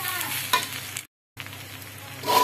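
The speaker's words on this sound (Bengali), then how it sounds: "পুরো ভাজা ভাজা করলাম" Rice and dal fried in oil with spices for Bengali bhuna khichuri: a close, crackling sizzle with stirring scrapes. It cuts out briefly in the middle, then resumes and grows louder toward the end.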